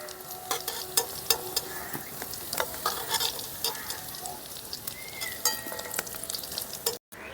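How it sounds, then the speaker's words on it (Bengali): Whole spices including two bay leaves, a dried chili and cardamom sizzling in hot oil left from frying potatoes for aloo dum, a steady crackling hiss with scattered sharp pops and occasional utensil clinks, brief silence near the end. "আলু ভাজা তেলের মধ্যে দিয়েছি দুটো তেজপাতা"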